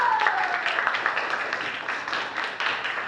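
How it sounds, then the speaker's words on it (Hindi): A classroom audience claps for a small boy, a short burst of dense, steady applause close by, with a voice briefly heard at the start. "यश कुमार के लिए जोरदार ताली मारिए।"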